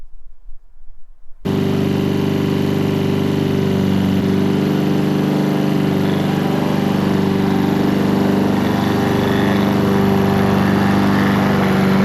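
A lawn mower engine starts up after a brief quiet moment and then runs steadily at a constant drone, loud and close.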